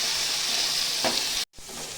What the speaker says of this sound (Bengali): রসুন, অল্প আদা, টমেটো। আমি এটা একটু ভেজে নেব।